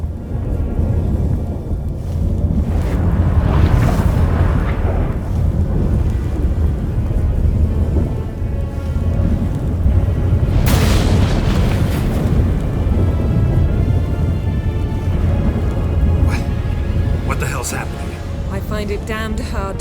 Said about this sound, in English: That a storm?